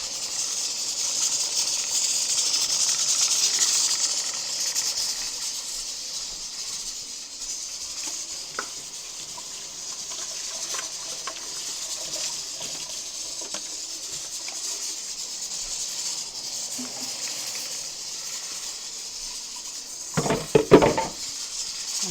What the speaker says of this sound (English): let that keep frying up there